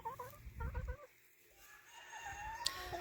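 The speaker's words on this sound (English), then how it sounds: "How come your rooster crows at every hour of the day?" A rooster and chickens at a Mennonite-built mobile coop give short, close clucking calls in quick groups at first, followed by quieter, drawn-out crowing and other bird calls farther away.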